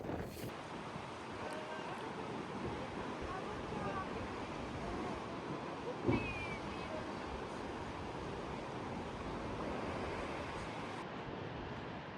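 Wind blows across a beach in Guadeloupe, a steady, moderately faint rush with surf-like wash underneath and one brief bump midway.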